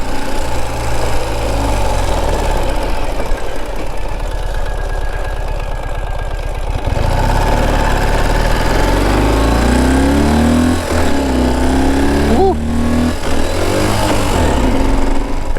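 A Ural Gear Up 2WD sidecar motorcycle engine running throughout a ride, a loud, steady, throbbing boxer-style drone that rises and falls in pitch as it accelerates and shifts gears, close and continuous with no talking.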